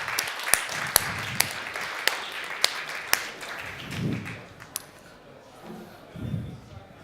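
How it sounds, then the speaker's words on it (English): A few scattered handclaps from an audience welcoming panel guests onstage at a TechChill 2018 tech conference, sharp and uneven, with low voices murmuring between them. "please a hand of applause for all of them"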